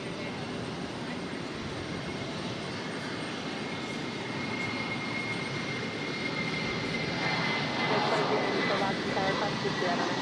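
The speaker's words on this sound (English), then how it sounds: "This is Spirit Airlines 2068 taking off to Orlando on the A320." Spirit Airlines Airbus A320 taking off from Boston Logan, a broad steady jet roar at a distance that swells slightly toward the end, with no break.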